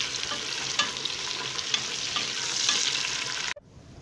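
Onions and green chillies sizzle steadily in a hot oiled pan for chicken biryani, a close, even frying hiss with faint stirring scrapes, ending abruptly.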